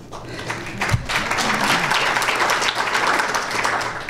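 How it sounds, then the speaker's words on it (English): A candidate forum audience gives a round of applause, a loud, full burst of many hands clapping together that swells quickly and carries on densely to the end. "So give yourself a round of applause for that."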